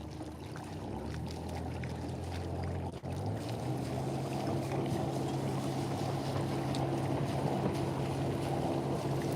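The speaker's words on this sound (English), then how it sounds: "We have another cruiser about to come past." A motor cruiser on the River Thurne at Repps Staithe in the Norfolk Broads passes nearby with a steady low engine drone, alongside water wash and some wind noise.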